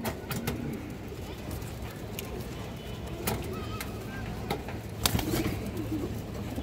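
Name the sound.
green-necked pigeons cooing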